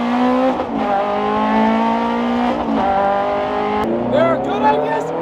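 A Ferrari runs on cold tires, its engine holding a steady, loud, tonal drone with brief dips and shifts in pitch, and people talk over it.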